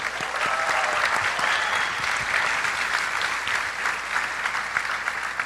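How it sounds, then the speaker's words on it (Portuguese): An audience in a church gathering applauds to welcome guests, a dense, steady wash of many hands clapping together, close and sustained throughout. "Gabriel, Dirceu, Ananda, queria que vocês os recebessem com aplausos"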